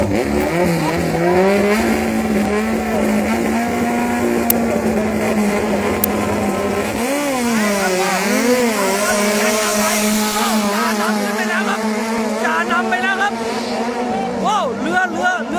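Racing boat powered by a Toyota 5K engine jumping waves, its engine droning loudly and steadily before rising and wavering in pitch as the hull leaps, with people talking over it.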